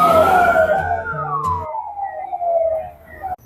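An ambulance siren sounds on a dusty service road beside the NH66 highway works in Kerala: one loud, near wail rises and then slowly falls before cutting off abruptly, over low vehicle rumble.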